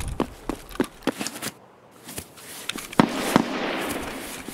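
Sharp gunshots in the video game Escape From Tarkov crack in an irregular sequence during player-versus-player combat, some close and loud, others fainter, over a hissy background with a short quiet gap.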